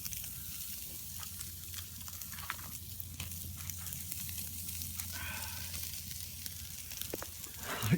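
A thick slice of bacon sizzles and crackles steadily in a pan over a campfire, a faint continuous frying hiss with occasional pops, no voices.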